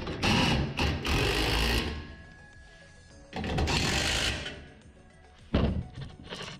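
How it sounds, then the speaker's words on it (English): Bolts being tightened on a Kobalt dual wheel wheelbarrow with a power driver, loud close whirring bursts with thunks of metal parts between them, three main runs separated by quieter gaps. "now we tighten down the nose first to lock everything in place"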